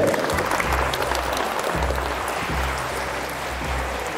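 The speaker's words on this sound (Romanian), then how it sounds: "Și aplauze!" Applause fills a TV talent show studio, a steady, loud wash of many hands clapping without pause, with a faint murmur of the crowd underneath.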